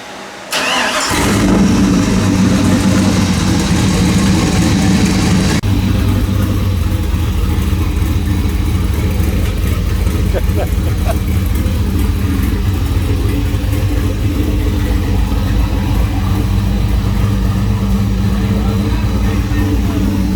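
A turbocharged LS car engine cranks and fires, then settles into a loud, steady, lumpy idle that runs close to the microphone, with people talking faintly beneath it.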